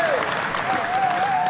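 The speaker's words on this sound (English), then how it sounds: "lots of round of applause for George." Applause from an audience at a Reform party political rally in Hampshire, a dense sustained clapping over the whole short stretch, with a faint whistle or shout riding above it.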